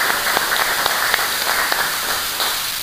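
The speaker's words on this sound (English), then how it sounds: "a round of applause for our sponsors" Conference audience applauding its sponsors, a dense, even wash of clapping from a crowd in a hall, with sharper individual claps popping out of the steady roar.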